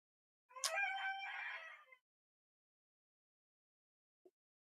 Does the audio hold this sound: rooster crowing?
yes